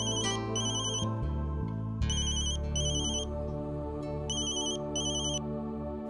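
An electronic phone ringtone plays alone, a steady melodic ring with repeated bright chiming phrases over a sustained tone, moderately loud and continuous throughout.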